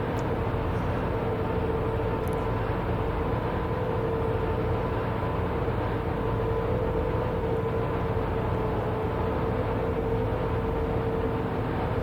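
Steady rumble of a running train in Train Sim Classic on the KwaZulu-Natal Corridor route in South Africa, with a constant drone and faint steady tone throughout, no speech.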